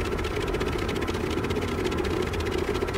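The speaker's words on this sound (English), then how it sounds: "Engine pumps. Engine start." An aircraft's engines run in the game Stormworks, a loud, steady, close droning hum with a rapid pulsing texture.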